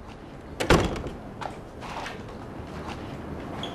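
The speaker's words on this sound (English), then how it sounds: "Door." A single sharp door bang lands early and stands out, followed by faint footsteps and a low rustle in a quiet room.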